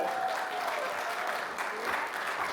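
A convention crowd applauds at a voice-acting event, a full, continuous round of clapping at steady volume with faint voices in the mix.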